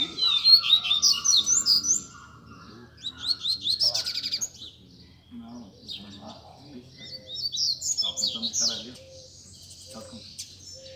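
Coleiros, double-collared seedeaters, sing in bright, rapid chirping bursts that come and go in several phrases, with quiet voices murmuring underneath.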